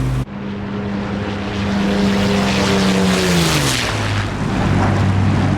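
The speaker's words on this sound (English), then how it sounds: "we had Merlins in this, Merlin engines, British engines" British Merlin aircraft engines in a DCS flight simulation drone loudly and steadily, their tone sliding downward partway through as revs drop, then settling into a continuous low hum.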